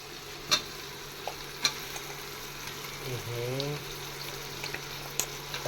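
Chicken meat for biryani sizzles in a hot pan while a utensil clinks and scrapes now and then, stirring; a voice murmurs briefly midway.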